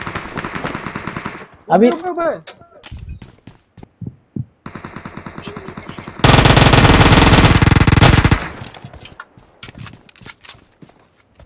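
Automatic weapons fire in PUBG Mobile, with bursts of shots and one long sustained loud volley in the middle, plus footsteps and a brief spoken word over the rattle.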